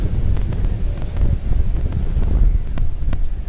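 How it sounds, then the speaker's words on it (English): Strong wind buffeting a microphone outdoors on a Tokyo street near the Aoyama Gakuin entrance between Shibuya and Harajuku, a continuous loud low rumble with gusty swells and no talk. "Definitely can hear the wind."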